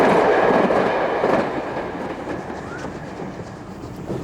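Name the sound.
E5001 locomotive hauling special train at Millbrook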